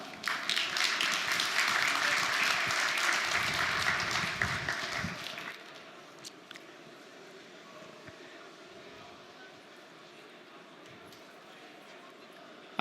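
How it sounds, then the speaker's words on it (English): Broad wash of applause from a large conference audience at a CeBIT 2017 global conference, loud and sustained for about five seconds before cutting off to quiet room tone. "So please give a warm round of applause"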